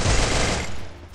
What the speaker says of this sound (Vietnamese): Nên mình chạy từ xa tới mình bắn nó nè